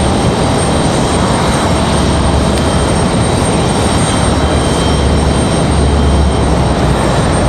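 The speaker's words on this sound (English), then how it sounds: "We've got American Airlines 1904 coming in from Charlotte." American Airlines flight 1904 from Charlotte arriving at Raleigh-Durham and passing right overhead, a loud, steady broadband jet roar with deep low rumble that holds strong throughout, no voices.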